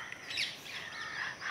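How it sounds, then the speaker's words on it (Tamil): Parrots in a home garden give a short burst of shrill, high-pitched squawks and chirps, somewhat distant and fairly faint against quiet surroundings. "கிளி சத்தம்"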